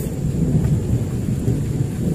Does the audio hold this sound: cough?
no